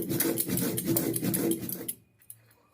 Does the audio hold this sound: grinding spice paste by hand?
yes